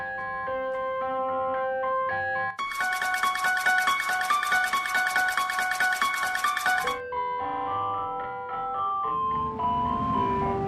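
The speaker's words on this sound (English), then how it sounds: "The music from the truck is written in a minor key" Tinkling ice cream truck music in a minor key plays a repeating tune, with a brighter, louder chime melody in the middle, then quieter music returns alongside faint rumbling.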